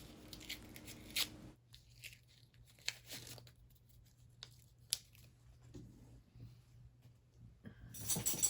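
Scissors cut pajama pants fabric, giving a few quiet snips and rustles against a low steady hum, with faint sounds scattered through and a louder rustle near the end.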